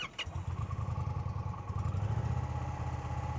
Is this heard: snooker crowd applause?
no